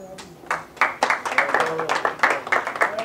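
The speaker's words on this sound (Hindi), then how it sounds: "ताली बड़ी कम बजा रहे हैं आप" An audience at a lecture on Iqbal's poetry claps in scattered, uneven bursts, individual hand claps standing out nearby, with some talking underneath.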